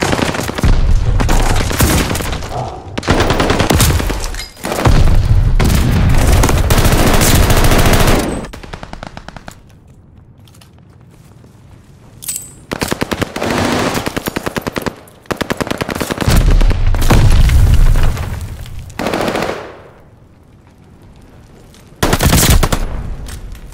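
Heavy automatic gunfire from Call of Duty Vanguard in a hardpoint match, loud sustained bursts of rapid fire broken by brief pauses and quieter stretches, with occasional booms.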